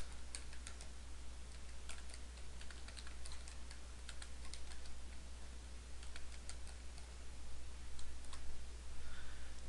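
Fingers type on a computer keyboard in quick, irregular clicks over a low steady hum, keystrokes coming in short runs close to the microphone with nobody speaking.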